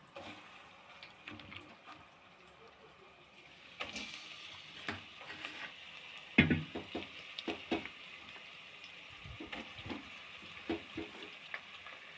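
Chicken pieces, about three-quarters of a kilo, frying in an onion tempering for a green chicken curry, giving a steady soft sizzle with sharper bursts and clatter as they are stirred in partway through.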